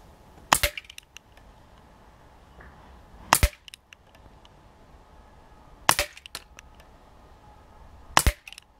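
An Artemis CP400 air rifle fires pellets in four sharp, loud shots spaced about two to three seconds apart. Each crack is brief and broadband, with quiet background and faint clicks between them and no voices.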